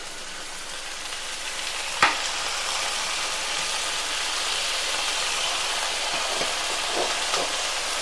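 Mutton keema with turmeric frying in a pan, a steady moderate sizzle with a sharp clack near the start and a few soft stirring scrapes later, no talk.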